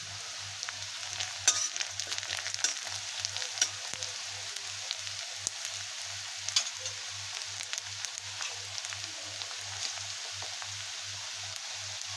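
Onion sautéing in a pan until reddish, a continuous soft sizzle with scattered crackles over a low steady hum, no one speaking.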